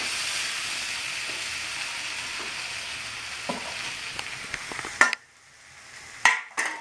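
Prawns and raw jackfruit fry together Bengali-style in a pan, with a steady hiss and sizzle under stirring. A few sharp clanks of the utensil against the pan follow, and then the sizzling drops away sharply.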